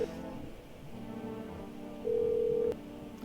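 Telephone call in the game No, I'm not a Human: a quiet line with faint dial tones, then a single long steady ring tone held for under a second before cutting off, alone without voices.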